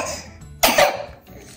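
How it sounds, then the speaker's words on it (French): A child gives a sharp, close cough with a brief throat-clearing rasp, a single loud burst of about half a second against a quiet room. "Tu peux t'abstenir de tousser, s'il te plaît."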